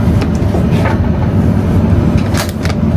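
A constant low rumble and airy rush fill the cabin of a high-speed train running between Hong Kong and Guilin at about 249 km/h, with faint rattles and brief brighter swishes over the steady noise.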